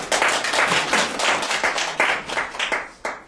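Audience clapping welcomes a Seoul National University Hospital lecturer, the second speaker at a CT basics lecture: a dense, steady round of applause from a room of people, with no talk over it.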